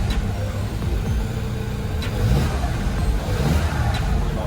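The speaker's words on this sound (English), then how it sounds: "Give it a rev." A VW Golf MK7.5 1.4 TSI fitted with a GTI TCR exhaust idles and revs in short bursts, loud and close, with no talking.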